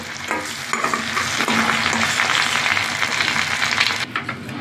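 Fried potato pieces are lifted out of hot oil while preparing a Bengali chicken and potato curry, with a steady loud sizzle and the scrape of stirring running continuously throughout, no talking.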